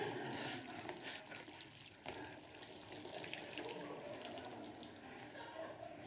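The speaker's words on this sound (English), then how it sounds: "Now I'm going to try and pour some water into that." Water pours steadily from a container into a bucket packed full of sand, a continuous hissing splash that runs throughout at moderate level.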